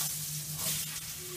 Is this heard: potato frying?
yes